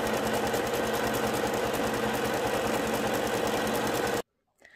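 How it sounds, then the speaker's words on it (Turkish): A sewing machine stitches skirt fabric in a fast, steady mechanical chatter, loud and close, running continuously for about four seconds before cutting off into silence. "A bölümlerinden aşağı olan kısımları da dikiyorum."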